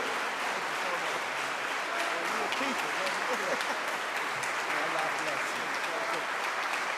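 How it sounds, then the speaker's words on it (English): Warm, continuous audience applause greeting a student minister at a religious gathering, a thick steady roar of many hands with voices mixed in beneath it throughout. "Let us receive him with a warm round of applause"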